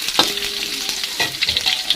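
Chili being sautéed with garlic and shallots, heard as a loud close sizzle broken by several scraping stirs of the pan over about two seconds.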